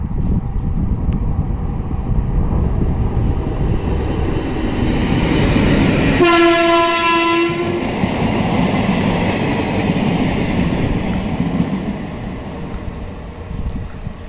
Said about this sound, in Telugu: ప్రజెంట్ వచ్చేసి Guntakal DRM inspection special train అయితే ముద్దునూరు రైల్వే స్టేషన్కి అయితే ఎంటర్ అవుతుంది